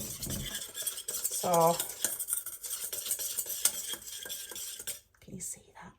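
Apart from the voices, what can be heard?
mixing milk into flour and butter roux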